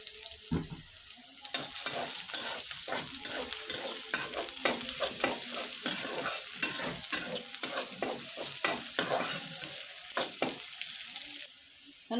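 Onions frying crisp in a pan with whole garam masala, a steady sizzle under repeated sharp scraping and stirring strokes, close and fairly loud, no voices.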